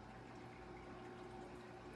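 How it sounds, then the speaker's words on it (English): Water flowing and splashing inside an AeroGarden hydroponic reservoir, a steady, close, continuous rushing like a small waterfall, with a pump hum underneath and no talking. "Sounds like a waterfall."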